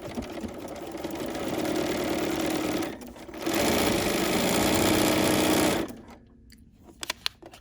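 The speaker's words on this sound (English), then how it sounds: "And now I'm going to continue on my stitching journey." Sewing machine stitching a quilt block, a close steady mechanical whir that runs in two bursts with a brief pause between, then stops, followed by a few small clicks.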